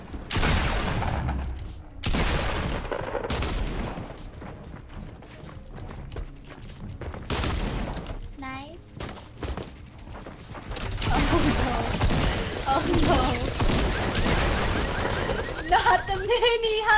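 Fortnite Battle Royale gunfire, including a minigun, with bursts of rapid shots and fire broken by brief gaps, loud and close, with voices talking over parts of it.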